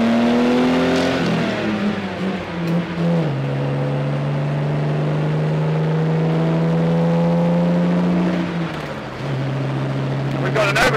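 A 1967 Austin Healey 3000 MkII sports car engine revs hard as the car accelerates along a straight road, its tone climbing, dropping briefly at a gear change, then climbing again, loud and close from inside.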